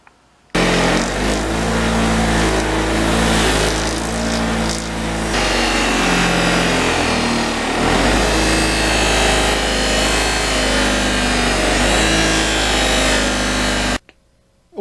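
A motorized buffing wheel polishes a sportbike muffler, a loud, steady whine that runs continuously for about thirteen seconds before cutting off abruptly, with slight load changes as the metal is pressed against it.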